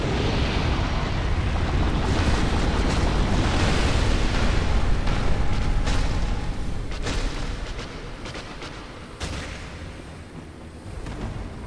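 An explosion in the video game Dark Souls: a loud, continuous roaring rumble that fades slowly, with a few smaller crackling bursts toward the end and no voices.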